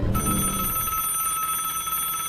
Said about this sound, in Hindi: ये तो फिर से रिंग कर रहा है।